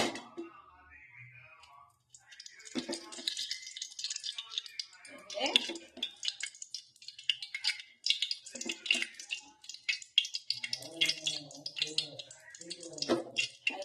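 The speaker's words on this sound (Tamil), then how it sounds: "ஸ்டவ் மேல கடாய் வச்சுட்டு ஆயில்" A metal kadai is set on a home kitchen stove and oil added, with intermittent clanks, scrapes and light clattering of cookware close by, and a voice speaking briefly in between.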